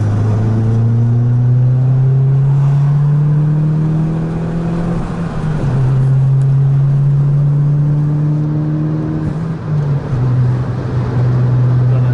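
A Mitsubishi Colt CZT pulls hard in third gear, its engine note climbing steadily and loud from inside the cabin, dipping briefly at shifts or lift-offs before rising again, with no talk over it.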